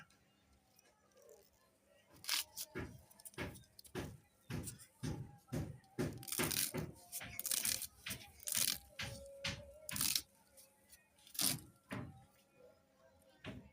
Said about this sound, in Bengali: দেখেন, এরকম ছোট ছোট করে সবগুলো পাতা আমি কুচিয়ে নেব।